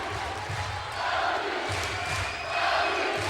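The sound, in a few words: crowd chanting LU at Alumni Gym volleyball match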